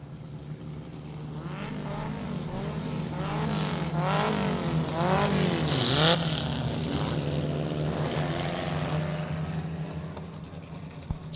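A pack of race cars rolls along on a final pace lap after a rolling start, their engines droning steadily at moderate volume and swelling as the field passes nearby, with no talk heard.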